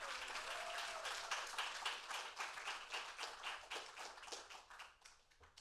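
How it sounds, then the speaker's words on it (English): An audience breaks into dense, lively applause that holds strong and then gradually thins out toward the end. "So, congratulations, and another applause for Victoria Lee."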